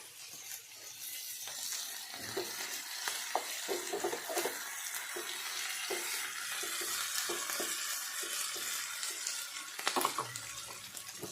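Paneer fries for chilli paneer in a home kitchen pan with a dense, continuous sizzle and crackle, broken by soft utensil taps and one sharper knock near the end.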